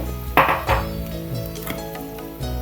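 Onions tipped into a pot of hot oil for frying, about a cup's worth, with two sharp metallic clatters near the start and a steady low sizzle continuing underneath, close and fairly quiet.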